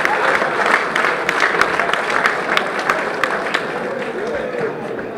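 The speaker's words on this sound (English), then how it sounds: "Can we give His Excellency another round of applause, please?" Audience applause in a formal hall after a Senate President's speech, a steady dense wash of many hands clapping throughout, with a voice faintly heard beneath.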